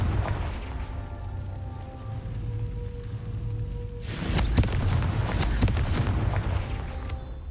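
A Confringo fire-blast spell explodes in Hogwarts Legacy, a sharp booming burst about midway followed by crackling blasts and rumbling debris, loud over a low ambient game backdrop.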